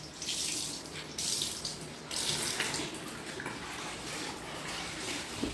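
Water from a tap runs steadily and loudly into a basin as it is washed, a continuous splashing rush with brief shifts in flow and no talking.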